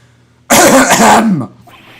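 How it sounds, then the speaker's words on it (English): A single loud, close throat clearing, a raspy guttural rumble lasting about a second, followed by quiet. "Maybe I should clear my throat"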